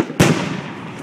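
A firework bursts with a sudden loud bang after a brief quiet moment, followed by a long crackling, hissing decay that fills the rest of the moment.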